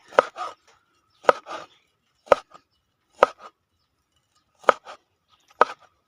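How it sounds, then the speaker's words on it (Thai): Six heavy knife chops through pork land on a cutting board at an unhurried, fairly regular pace, each a sharp double thud with quiet between. "มาทำการหั่นหมูกันครับแบบหนึ่ง"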